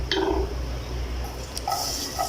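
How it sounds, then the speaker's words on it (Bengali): Cooking oil is poured into a wok in a home kitchen, a soft, faint trickle and splash with a few small liquid blips, heard close and alone. "তো এখানে প্রথমেই তেল দিয়ে দিলাম কড়াইতে,"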